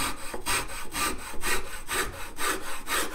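Hand rasp worked along a wooden guitar neck, shaping it with steady back-and-forth strokes, about six rhythmic rasping passes, close and fairly loud with no talk.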